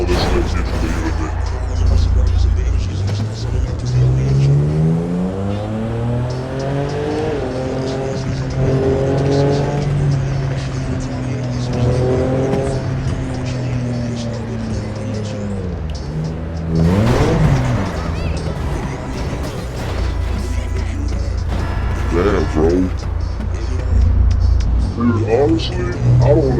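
Cars driving and passing in a racing-style video game, with a steady engine drone, rising and falling revs and tyre noise running throughout, close and loud under someone talking.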